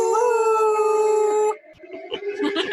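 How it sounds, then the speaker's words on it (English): Neighborhood dogs howl in a long sustained chorus, then break into shorter yips and whimpers, fairly loud and near, with no talking. "Our neighbor dogs howl a lot."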